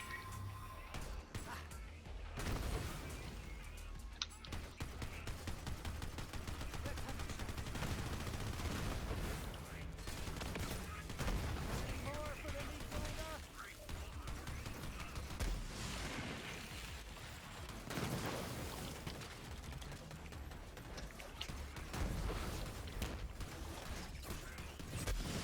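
Sustained gunfire from a weapon in the video game Borderlands 3, dense overlapping shots and impacts running nearly the whole time at steady loudness, mixed with game effects and occasional talk underneath.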